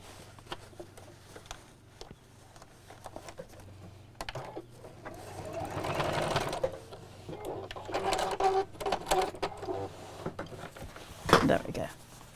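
A sewing machine stitches a fabric bag strap in short bursts of rapid mechanical whirring that grow louder midway, with someone speaking softly over it.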